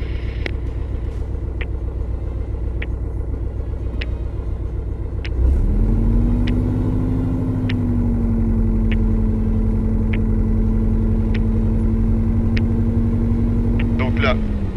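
A Robin DR 400 light aircraft engine running at takeoff on runway 08, a steady droning hum that rises in pitch and holds at high power partway through. Faint radio clicks and cockpit noise sit underneath.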